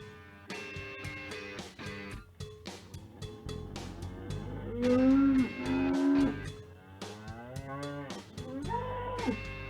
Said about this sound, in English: So what we got for cow Betsy? on the loose.